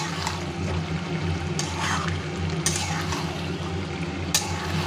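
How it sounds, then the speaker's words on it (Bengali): Meat sautéing in a pan with six or seven crushed cardamom pods, a continuous close sizzle and hiss broken by occasional light scraping and stirring clatters, with no talking. "এবার এলাচ গুঁড়োটা এবার ভালো করে কষিয়ে নিতে হবে"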